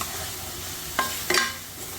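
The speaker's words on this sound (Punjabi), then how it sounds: "ਚਲੋ ਜੀ ਮਸਾਲਿਆਂ ਨੂੰ ਥੋੜਾ ਜਿਹਾ ਭੁੰਨ ਲਾਂਗੇ" Spices with salt and black pepper roasting in a pan: a low continuous sizzle with two short stirring scrapes near the middle, close and fairly quiet, with no voices.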